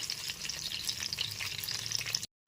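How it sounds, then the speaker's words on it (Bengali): Pieces of katla fish frying in hot oil, a dense, close, continuous crackling sizzle that cuts off abruptly near the end. "একই রকমভাবে ভেজে তুলে নেব দ্বিতীয় ব্যাচের মাছগুলো ঠিক একই রকমভাবে উল্টে পাল্টে ভেজে নিয়েছি মাছগুলো"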